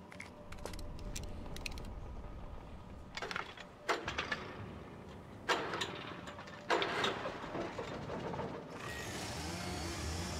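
A generator in the horror video game Alan Wake cranks and sputters through several uneven mechanical bursts and creaks, then settles into a steady running hum, all close and moderately loud.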